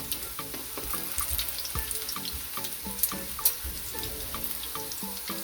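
Saltfish fritters of seasoned batter frying in hot oil, a steady close crackling sizzle with scattered pops and spits running throughout, no voices.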